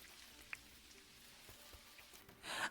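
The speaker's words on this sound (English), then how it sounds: "It's raining." Rain falls in the Dinkum video game as a faint, steady patter with occasional soft drop ticks, swelling into a louder hiss at the very end.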